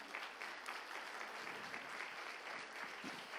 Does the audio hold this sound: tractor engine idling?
no